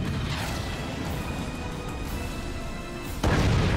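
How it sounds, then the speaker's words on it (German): Artillery in the video game Forts fires, then a sudden loud impact boom hits near the end after a stretch of steady mechanical rumble. "dann kam der Schuss hier"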